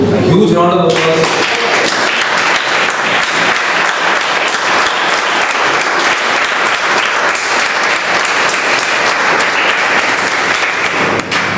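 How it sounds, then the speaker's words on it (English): Sustained, loud applause fills the room at a Bombay Toastmasters club meeting, dense steady clapping from the gathered members holding for about ten seconds after a brief voice at the very start. "I think we should give a huge round of applause."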